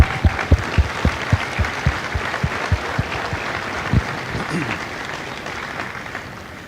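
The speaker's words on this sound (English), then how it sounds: "Give yourself a round of applause, please." Audience clapping at a Marine Corps recruit graduation at MCRD San Diego, a burst of applause across a large outdoor crowd that fades over several seconds, with a voice amplified over a public address system.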